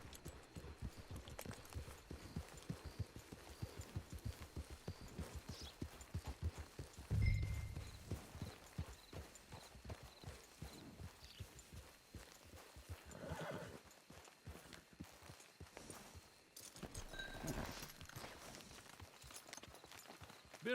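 A horse in a video game clip-clops along with steady hoof beats and gives a neigh partway through, plainly audible over a faint background with no talking.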